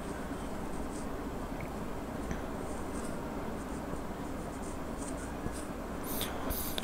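Pen writing by hand on paper, a continuous scratchy scribble sustained close up for the whole stretch, with no one talking.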